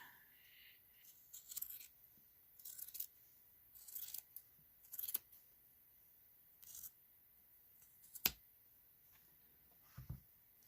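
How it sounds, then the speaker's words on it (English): Several short, crisp snipping bursts of scissors cutting fabric, spaced irregularly with quiet pauses between, fairly close and moderately loud. "Take my scissors and cut that edge."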